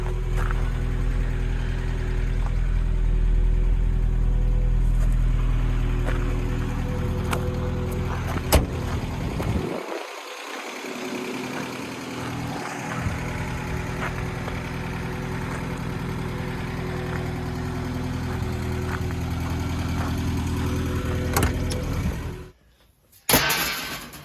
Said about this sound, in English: It has a Cherry Bomb thrust turbo muffler. There's the exhaust sound.